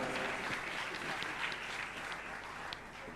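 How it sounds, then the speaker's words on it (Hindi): Sustained applause from an audience at a religious question-and-answer gathering, steady and fairly faint throughout, with a murmur of voices mixed in. "जोरदार तालियों के साथ अनुमोदना"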